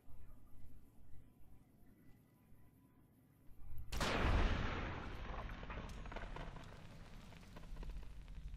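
Gunfire in Fallout New Vegas aimed at fire geckos: after a few seconds of quiet, a loud blast erupts and decays into a sustained crackling, rumbling tail that keeps going to the end.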